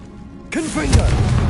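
A Confringo blasting spell goes off in the Hogwarts Legacy video game, a sudden blast with a heavy low rumble and crackle that follows a shouted voice and stays loud to the end.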